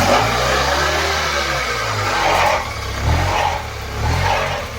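Engine of a 2013 Tata Nano AC car revving repeatedly, a low steady idle rumble swelling into three rising rev bursts, close and loud with no talk.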